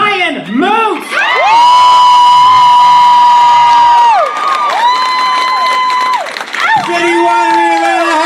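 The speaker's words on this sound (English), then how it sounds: "Start clapping around now, make all the noise you humanly can for Brian Moote!" A live comedy club audience claps, cheers and whoops loudly for comedian Brian Moote, a dense sustained roar with high shouts riding over it, while an announcer's amplified voice carries across the noise.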